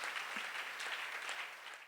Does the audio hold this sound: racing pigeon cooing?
no